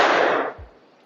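A classroom of students claps hands together during a rhythmic clapping chant, producing one loud, close burst of many hands at once that quickly fades into quiet room tone.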